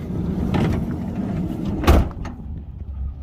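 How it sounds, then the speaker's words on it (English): A van door swings shut with a single close, solid thud partway through, as its factory-installed automatic step retracts. Low rumbling background surrounds it, with no talking. "And then when you close the door,"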